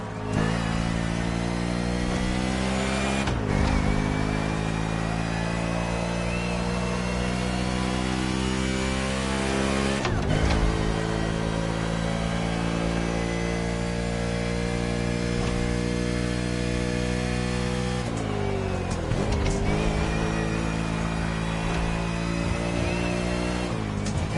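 Car accelerating in the Crew Motorfest racing video game: a loud engine winds up through its revs, with sharp gear shifts at three points where the pitch drops and climbs again, steady and close with no talking.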